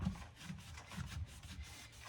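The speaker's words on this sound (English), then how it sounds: "I'm just going to clean the residue from the degreaser" A rag rubs and wipes degreaser residue off the top of kitchen cabinets, giving soft, rhythmic swishing strokes, close and fairly quiet, with no talk.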